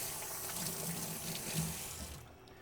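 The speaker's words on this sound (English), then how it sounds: "Let me rinse my hands." Water runs steadily from a kitchen faucet as a chef rinses hands mid-recipe while cooking fish, a continuous splashing rush that cuts off near the end.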